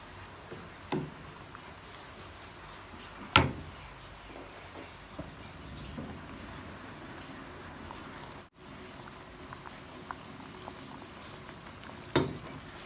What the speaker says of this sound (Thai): คนส่วนผสมเรื่อยๆนะคะให้เขาเดือดอีกครั้งหนึ่งนะคะ